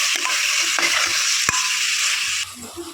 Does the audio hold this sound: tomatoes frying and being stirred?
yes